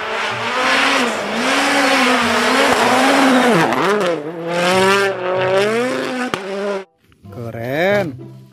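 A toy race car with a whiny, buzzing motor that rises and falls in pitch like revving, loud and close, cutting out briefly before starting again.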